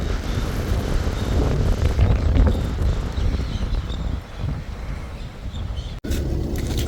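Wind gusts across a caravan park beside an airport, a loud, steady roaring rumble buffeting the microphone with brief dips, heard alone without talk.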